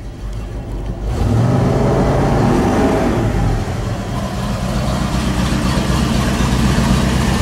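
A minivan engine rumbles steadily at idle while warming up after starting, running slightly rich with the choke on, a low continuous drone with a slight rise partway through.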